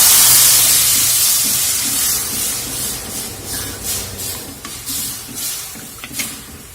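Cooked lentils are poured into a hot tempering in a pan: a loud burst of steamy hissing that slowly fades, with bubbling and occasional soft clinks.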